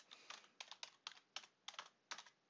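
Quick typing on a computer keyboard while entering a folder name, about ten crisp key clicks in short irregular clusters, close and quiet, with no talk.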